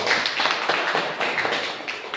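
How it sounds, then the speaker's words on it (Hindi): Loud applause from a gathered audience at a product talk, several seconds of dense, rhythmic clapping that rises and tapers slightly toward the end. "जोरदार ताली"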